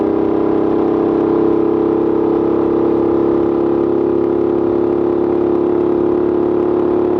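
A British single-cylinder motorcycle ridden at a steady pace gives a loud, continuous engine drone close by, with no talking.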